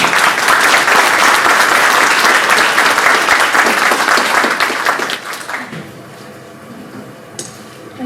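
An audience at a 2022 annual meeting session in Hattiesburg, Mississippi claps to welcome panelists, loud, dense applause that tapers off after about five seconds into near quiet room tone.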